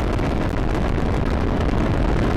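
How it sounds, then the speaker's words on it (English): Sea Launch rocket lifting off from its ocean launch barge, a dense, steady broadband roar that fills the whole span without a break, loud and rumbling with wind-like texture and no voices. "they launch a rocket"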